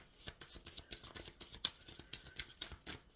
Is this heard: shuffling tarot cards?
yes